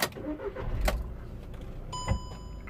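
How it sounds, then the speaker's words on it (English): A Volkswagen Caddy van's engine cranks and turns over, with a few clicks and a dashboard chime, heard close up in the cabin after ABS/ESP unit replacement. "So start the engine."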